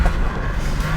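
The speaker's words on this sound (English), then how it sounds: "give it a big old drift" A 2021 BMW M3 Competition kicking its back end round into a drift, a brief loud burst of engine roar and tyre noise heard close up.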